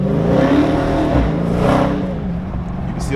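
A 2020 Dodge Charger Daytona Hellcat engine revs with a steady, throaty rumble that holds strong and loud for about three seconds.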